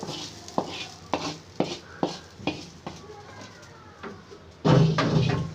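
Beef kala bhuna being stirred in a pan: a steady series of sharp spatula scrapes about every half second over a low frying sizzle, then a louder, denser burst of sizzling near the end.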